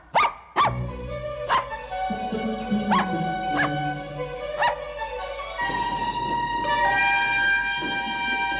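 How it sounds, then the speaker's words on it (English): A smart little dog named Beans barks several times in quick yips, then whimpers and whines, close and fairly loud with tonal music sustained underneath. "He was a smart little dog, and he ran to get Sparky"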